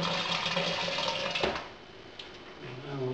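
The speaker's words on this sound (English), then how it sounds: "So boiling water in." Boiling water pours from a kettle into a fermenting vessel for a Muntons American IPA home-brew kit, a steady splashing gush that is close and fairly loud, easing off partway through and then running on more quietly.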